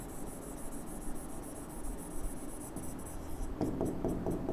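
Pen on paper scratches steadily through low background hiss as someone writes by hand while teaching a physics class, with a quicker, more scratchy burst of strokes near the end.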